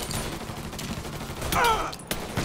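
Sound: gunshots in the video game Mafia 3

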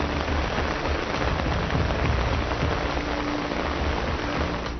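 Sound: heavy rain

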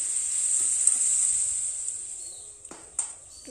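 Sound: stirring goat meat cooking on a clay stove

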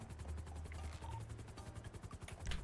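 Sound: helicopter in a video game

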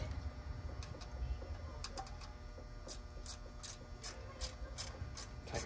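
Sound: ratchet tightening down a part on a Monte Carlo car

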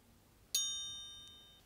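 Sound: Christopher Ward Bel Canto watch chiming mechanism hammer chime

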